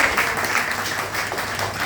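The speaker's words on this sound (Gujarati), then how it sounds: "તો જોરદાર તાળીનો પ્રયાસ" Dense applause from an audience at a diabetes camp event, steady clapping filling the whole moment without a break.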